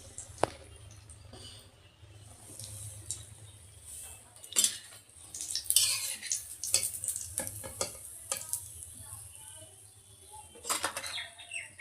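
Eggplant fritters (beguni) deep-frying for iftar in a home kitchen, a steady low sizzle under scattered metallic clinks of a utensil against the pan, close and moderately loud, with no talking.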